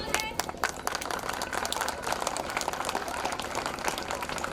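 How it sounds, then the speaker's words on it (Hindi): Audience applause at a school annual function, a dense, sustained wash of many hands clapping throughout, moderately loud and close. "जोरदार तालियां हो जाए।"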